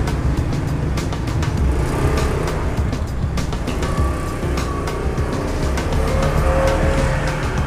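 Peanut processing machine separating seeds from shells, a loud, continuous dense mechanical roar with rattling clicks throughout and no pauses.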